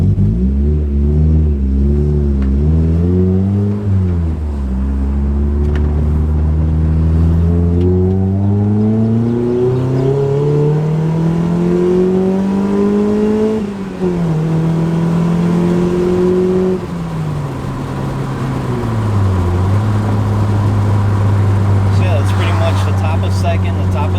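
A Mazda Miata with an ISR aftermarket exhaust accelerates hard, loud and raspy, engine pitch climbing and dropping repeatedly as it shifts up through the gears, close and continuous.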